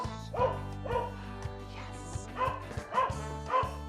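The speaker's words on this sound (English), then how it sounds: "I'm gonna have to stop the epic barking." A dog barks and yips in a run of about six sharp, close barks at uneven intervals, with a steady low hum underneath, at a disc dog training session.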